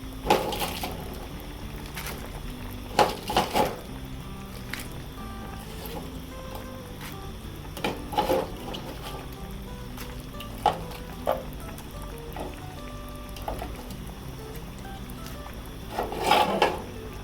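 Bok choy stirred into cooked beef in a pot sizzles steadily, with occasional louder scrapes and clatters of the spoon against the pot recurring every few seconds.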